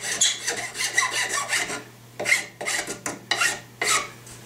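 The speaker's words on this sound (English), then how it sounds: "once you get all this down the way you want to the wood, I'll go over it again with a smoother file" A smoothing file rasps back and forth over a wooden gunstock and its sheet metal buttplate, close and in a rhythm of repeated strokes with short pauses between bursts.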